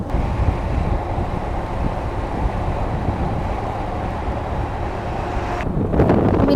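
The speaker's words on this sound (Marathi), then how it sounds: "तर वाऱ्याच्या झुळूक आहे छोट्या मोठ्या" Wind buffets the microphone in a dense, steady roar outdoors while riding along a road in the Sahyadri hills, with a sharper gust surge near the end.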